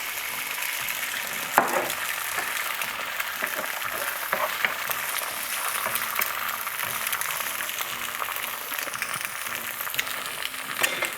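Eggs fry in a hot pan with a steady, close sizzle and crackle that holds throughout, with a few sharper pops and no talking.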